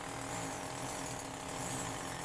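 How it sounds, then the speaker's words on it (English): A steady, dense mechanical grinding roar of a drill boring into concrete during a balcony build, continuous and close, with no pauses or voices. "So when I'm drilling these things out,"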